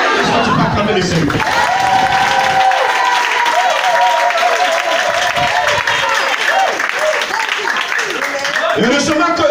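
Church congregation clapping and shouting acclaim, with loud, sustained applause and cheering from a large crowd close by, joined by a voice calling out.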